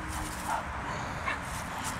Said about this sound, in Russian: А это гавкает, что-то совсем ругается там в вольере.